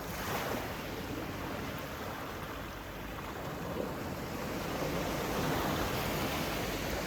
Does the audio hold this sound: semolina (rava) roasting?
no